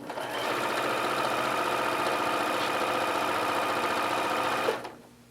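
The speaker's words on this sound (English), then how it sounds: "I've set it at a 1/4 inch so that I'm going to sew a 1/4 inch seam" A sewing machine stitches a quarter-inch seam through quilting fabric with coordinating thread, running as a fast, steady mechanical whir for about four and a half seconds before it stops abruptly.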